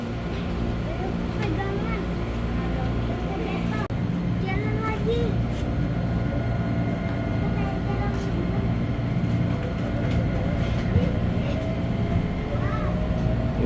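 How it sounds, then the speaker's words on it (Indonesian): Train pulling away from Maja station in Indonesia, a steady low rumble and rolling drone lasting throughout at close range, with faint squeals and voices mixed in beneath. "Tuh, jalan lagi keretanya."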